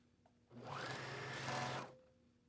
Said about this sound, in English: we're going to sew across here.